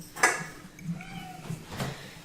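A cat meowing for food indoors, a couple of short, faint meows over quiet room noise and light clatter.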